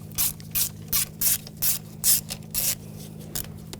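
T30 socket ratchet loosening intake manifold bolts on a 2011-2018 Volkswagen Jetta 2.0L TDI, about eight quick rhythmic clicking bursts close by over a low steady hum.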